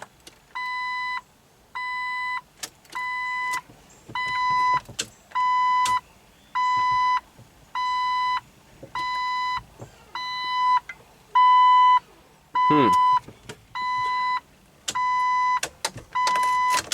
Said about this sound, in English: Oh, that beep's so annoying.